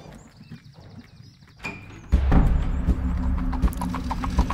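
Horse hooves clip-clopping as a police carriage starts moving in an audio drama, quiet at first, then loud, close, steady hoofbeats with rolling wheels after about two seconds.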